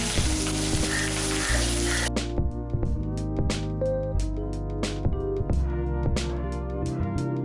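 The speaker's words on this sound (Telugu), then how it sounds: "ఇప్పుడు అదే నూనెలో ఉల్లిపాయలు, పచ్చిమిరపకాయలు వేసుకుని బాగా ఫ్రై చేసుకోండి." Onions and green chilies fry in hot oil, a loud, dense sizzle for the first two seconds that then gives way to steady tones with occasional sharp taps.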